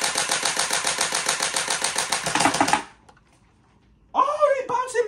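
A gel blaster pistol fed by an Orbeez drum magazine fires in a rapid, steady mechanical rattling burst for nearly three seconds, then stops; a voice speaks shortly after.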